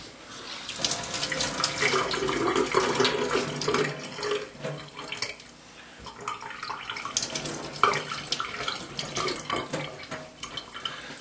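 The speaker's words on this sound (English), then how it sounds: "So I run it under a bit of water." Tap water runs steadily for about eleven seconds as an airsoft gun part (BT4, power tube and internals) is rinsed under it, splashing and gurgling up close with small shifts in flow, and no one talks.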